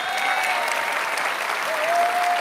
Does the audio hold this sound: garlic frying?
no